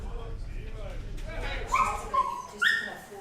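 Dogs at a dog groomer's in Ardrossan yip, whimper and bark in short bursts, mixed with a person talking, fairly close in an indoor space.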